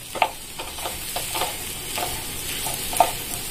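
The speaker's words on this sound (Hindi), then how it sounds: "अब हम इसमें अपना सैलो फ्राई किया हुआ अरबी और आलू को डालकर अच्छे से मिला लेंगे।" A spoon scrapes and stirs through shallow-fried taro and potato in masala, with irregular clicks and knocks against the pan over a soft sizzle. It is close, with no one speaking.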